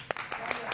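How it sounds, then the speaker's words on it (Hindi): A few scattered hand claps sound during a heated televised political debate, light and uneven, about four or five quick claps under a raised speaking voice. "तालियां।"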